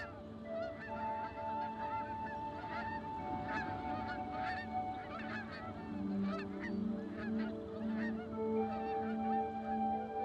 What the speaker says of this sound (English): Waterfowl gather in preparation for southern flight, their numbers swelled by the summer's reproductive successes.